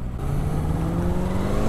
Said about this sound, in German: er hat ein bisschen hochdrehen lassen für die Stadt